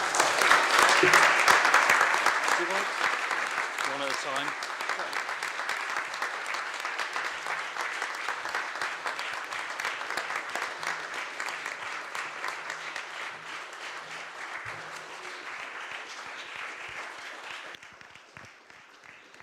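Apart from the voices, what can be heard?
audience applause at a council awards ceremony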